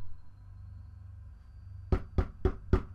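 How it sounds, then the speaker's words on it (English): Four evenly spaced knocks on a sturdy metal door, sharp and fairly close, after a quiet low hum. "I rap on the door a few times"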